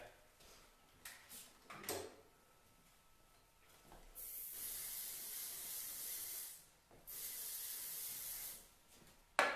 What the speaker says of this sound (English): Shine spray.